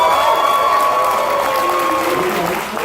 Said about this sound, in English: By a round of applause,